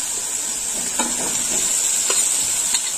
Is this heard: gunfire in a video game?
no